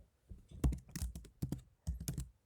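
Typing Python code on a computer keyboard, quick bursts of close keystroke clicks in uneven clusters with short pauses between them.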